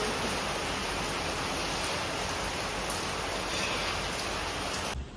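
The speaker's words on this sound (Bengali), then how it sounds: "দেখলেনি কিরকম জোরে বৃষ্টি শুরু হয়েছে" Heavy rain pours down in a dense, steady roar close by, unbroken and without any voices.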